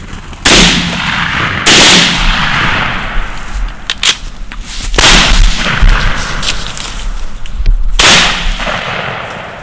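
Loud shotgun blasts during a turkey hunt for Eastern wild turkeys outdoors, several sharp booming reports at close range, each with a ringing decay.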